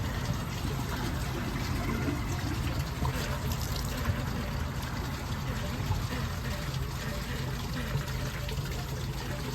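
Water rushes steadily into a Glacier Bay dual flush toilet bowl as it refills, a continuous close hiss and trickle lasting the whole stretch without pause.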